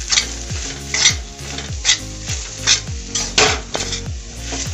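Boiled potato being mixed with spices for an aloo sandwich filling, with a spoon scraping and knocking against a bowl in a regular rhythm of about six strokes. The sound is close and clear, with no voices.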